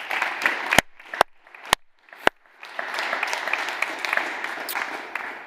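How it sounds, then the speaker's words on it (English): Audience at an F1 in Schools World Finals awards show clapping, opening with a few sharp isolated claps before swelling into sustained, dense applause from a large crowd, fairly close and steady. "Big round of applause from all of us here."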